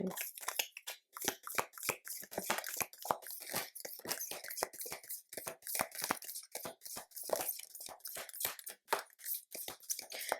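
Tarot cards shuffled by hand, a rapid run of crisp riffling slaps and flicks repeating steadily at close range, with a little faint talk.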